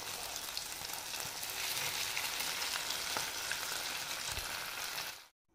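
Flattened rice (chira) frying on a high gas flame and turned with a small spoon, giving a steady, dense sizzle that runs unbroken before cutting off abruptly.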